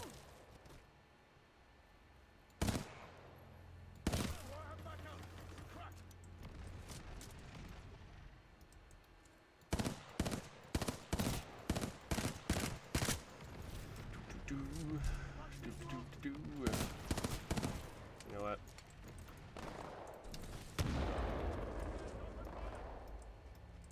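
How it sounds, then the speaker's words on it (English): Hemlock burst-fire gun shooting in a video game: short clusters of sharp, loud shots in quick rhythmic bursts, repeated several times, with a person talking over parts of the action. "The Hemlock, by the way, is that burst fire gun that I forgot existed"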